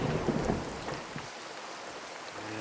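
Thunderstorm sound effect with rain and a deep rolling rumble of thunder at the start that fades into a steady hiss of falling rain.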